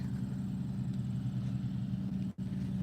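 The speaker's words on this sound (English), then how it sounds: "Here comes the lawnmower." A small engine drones at a steady low pitch throughout, consistent with a lawnmower running nearby outdoors along a fence, with one brief dropout near the end.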